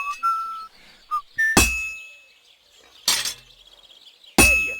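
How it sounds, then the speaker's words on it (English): A sword being hammered on an anvil by a smith in Kingdom Come: Deliverance II: three loud, ringing metallic clangs spaced over a couple of seconds, each decaying into a bright shimmer, preceded by a few short whistled notes. "When I hammer a piece to a beat, the work goes by easier."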